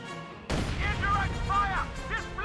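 Mortar barrage in the real-time strategy game Company of Heroes 2, a sudden heavy blast followed by sustained rumbling explosions and debris, with faint whistling tones layered over the continuous battlefield din.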